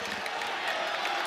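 Crowd noise fills a packed basketball arena at the Marriott Center during a close BYU men's game against Arizona, a steady, loud roar of cheering with muffled voices mixed in and no distinct pauses.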